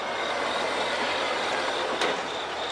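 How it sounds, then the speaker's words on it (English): An LIRR M7 electric train departs eastbound toward Huntington, giving a steady loud wash of rolling and motor noise with a brief clank near the end. "departing eastbound with M7s was a Huntington-bound train"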